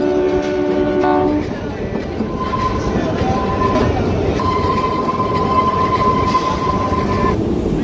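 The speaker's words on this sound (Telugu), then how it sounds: "చూడండి ట్రైన్ స్పీడ్ అయితే ఇరవైలో వెళ్తుంది" The Kalka-Shimla toy train runs slowly through hilly forest, wheels clattering steadily close by, with horn blasts sounding at the start and again in long sustained tones midway.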